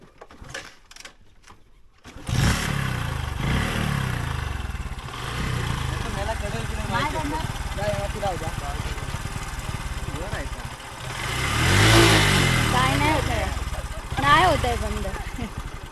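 A motor vehicle engine sputters into life after a few sharp knocks, then runs and revs unevenly with a rough idle and a louder rev swell, while people talk over it.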